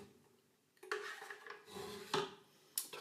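Small spoon clinking and scraping in a bowl of vegan blueberry tartlet filling, a few quiet taps and scrapes spread over a few seconds in a calm kitchen, no talking.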